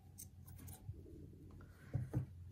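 Scissors snipping crochet yarn, a few soft close cuts with the loudest pair of snips near the end over a faint background.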